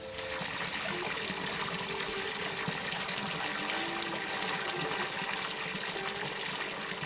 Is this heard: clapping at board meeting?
no